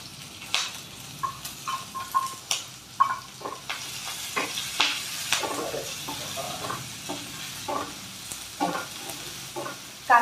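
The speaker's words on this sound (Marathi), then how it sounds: "कांदा चांगला परतून घ्यायचा, लाल होईस्तोवर परतून घ्यायचा" Finely chopped onion and green chillies sautéing in oil, an even sizzle broken by repeated scraping stir strokes and clatter close by, no voices.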